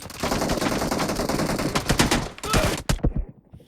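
Automatic gunfire in PUBG Mobile: sustained rapid bursts of shots, loud and close, with a few final sharp reports before the shooting cuts off.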